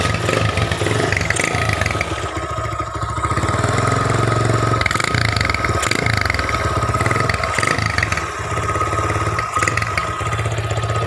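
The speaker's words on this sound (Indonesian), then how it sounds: "knalpot apa suara kleper-kleper sumber bikin baper" A motorcycle fitted with an East Java Sumber-style aftermarket exhaust runs loud and close, giving a deep, flapping bass burble with repeated throttle blips over a steady idle throughout.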